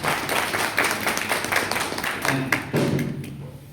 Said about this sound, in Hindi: तो हम दे ही क्या सकते हैं सर के लिए, इतनी अच्छी जानकारी दी है तो एक जोरदार तालियां सर के लिए होनी चाहिए।